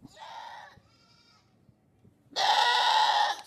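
Barbari goat kid bleating in a short double call, a pause, then a long loud sustained bleat close by, no talking.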